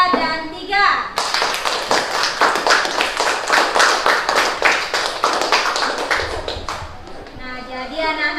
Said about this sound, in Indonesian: jadi berikan aplaus kepada kelompok 1, 2, dan 3